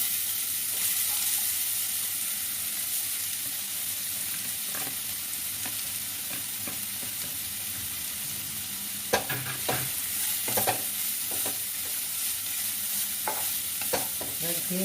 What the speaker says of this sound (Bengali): দিয়ে ভালো করে এটা ফ্রাই করে নেবো।